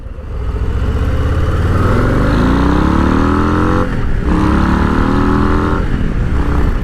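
A Harley-Davidson Low Rider S at road speed, its engine climbing through the gears with a rising roar, a brief dip at each shift, loud and close.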